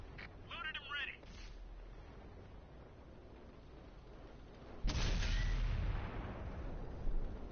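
A Tiger tank's main gun fires once in a World of Tanks battle, a sudden loud, heavy boom with a long rumbling tail. Someone talks before the shot, and a brief beeping chirp is heard early on.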